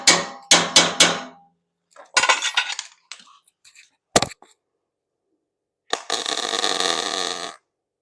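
Hammer taps land on a hot, freshly welded gusset on a steel flag pole: three quick close strikes, then scattered clanks and a single sharp hit, ending in a longer rough scraping burst.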